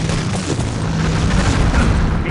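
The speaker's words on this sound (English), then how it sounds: "We have damaged that anti-tank gun!" A loud, sustained explosion roars through a Wolfenstein: Enemy Territory match as an anti-tank gun is damaged, a dense rumbling blast that fills the whole moment without letting up.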